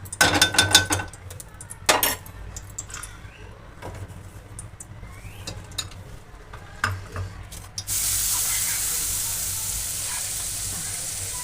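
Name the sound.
stirring grated carrot frying in ghee in kadai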